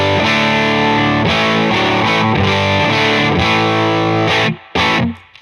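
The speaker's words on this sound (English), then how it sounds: "I am running a Seuf Guitars OH20 into a Fairfield Circuitry Model B, always on overdrive" Bass guitar played through a Fairfield Circuitry Model B overdrive pedal, always on, into a Benson Amps Monarch Reverb; thick distorted sustained notes ring loud and alone, ending in a brief cutoff and a final stab.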